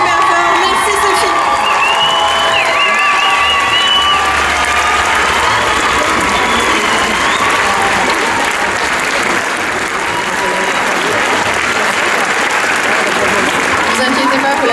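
An audience applauds loudly and continuously, with cheers and scattered shouts rising from the crowd throughout.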